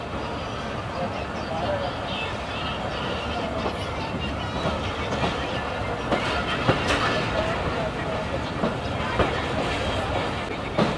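The Karachi Express passenger train rolls along the rails at night, a loud, continuous rumble with rhythmic wheel clatter heard from inside the carriage, with a voice talking faintly underneath.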